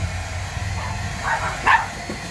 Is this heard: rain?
no